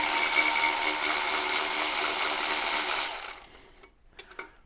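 A ratchet spins off an 8 mm bolt on the oil level sensor of a Land Rover Discovery 4, making a fast, continuous close clicking that stops abruptly and is followed by a few light metallic handling taps.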